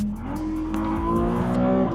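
A Ferrari 296 Speciale, an 880hp rear-wheel-drive supercar, accelerates hard on a public road, its engine note climbing steadily and loud for a couple of seconds with no talk.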